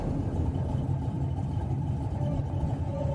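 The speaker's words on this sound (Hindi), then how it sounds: "गाड़ी स्टार्ट करके आगे बढ़ गए" A car engine runs steadily at close range with a constant low rumble, holding an even level throughout without any distinct ignition moment.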